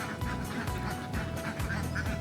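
A flock of about a hundred farm ducks, kept penned in cold weather, quacking repeatedly in overlapping nasal calls, fairly close, over a constant background hum.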